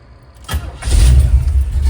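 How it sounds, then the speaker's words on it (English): A 1969 Chevy K5 Blazer cranks briefly, then its engine catches and settles into a loud, steady rumble up close. "I'm gonna go ahead and start it up here."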